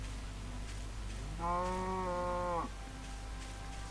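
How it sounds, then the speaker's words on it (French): A giant cow in the video game Minecraft lets out a single drawn-out moo, loud and clear over a quiet, steady game background. "Ils font meuh. Meuh la vache."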